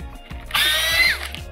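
A T20 screw is backed out of the window switch frame on a Mercedes-Benz W212 E-Class, heard as a short, close, bright ratcheting whir lasting about half a second.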